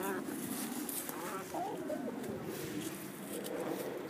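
Soft clucking and cooing bird calls over a quiet, noisy background, faint and scattered across a few seconds.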